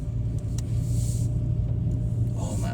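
A 2017 Mitsubishi Mirage fitted with a smaller aftermarket OMP steering wheel drives along, its steady low engine and road rumble droning close and continuous with no talk.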